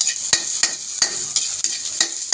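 A spatula scrapes and knocks against a hot pan (kawali) while ginger, garlic and onion sizzle, the close, sharp strokes coming about every half second over a steady bright hiss.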